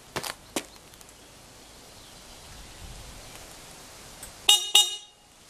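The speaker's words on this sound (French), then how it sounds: "le klaxon fonctionne aussi" Two short car horn honks from an AV88 racer sound near the end, after a few clicks and a quiet stretch of background hiss.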